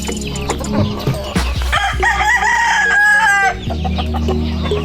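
Chickens cluck steadily while a rooster crows loudly in the middle, a drawn-out call over busy, close farmyard noise.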